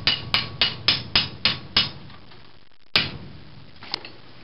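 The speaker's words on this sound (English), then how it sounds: "put it in the vise and then hit it with a hammer over here" Sharp metallic hammer strikes on a metal pipe held in a vise ring out in a steady run of about six blows, then a pause, a single harder hit, and a faint tap.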